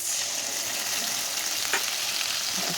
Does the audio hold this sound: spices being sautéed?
yes